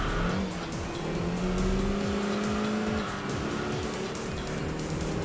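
A race car in the driving game Enthusia brakes hard into a corner, the engine note dropping through a series of falling downshift sweeps with a tire squeal, loud and close throughout.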